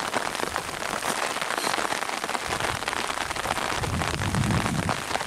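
Rain falling during a hike and bivouac in the high Var valley, a dense, steady patter of drops striking nearby surfaces, close and constant from start to finish with no talking.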